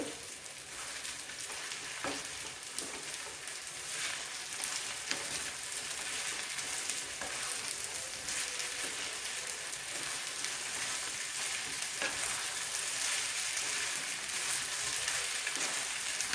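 Sabudana pulao stirred repeatedly with a spatula in a kadai over medium heat, a continuous close frying sizzle with irregular scraping and shuffling strokes throughout, no one speaking.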